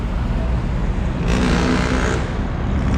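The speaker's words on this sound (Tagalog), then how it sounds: "narinig niyo yun sobrang ingay ng mga jeep" Busy street traffic dominated by jeepneys rumbles steadily nearby, with a brief louder engine surge as one vehicle passes close through the constant roadway noise.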